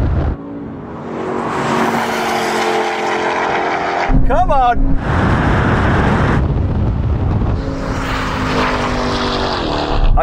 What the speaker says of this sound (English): Got a good launch in the Porsche.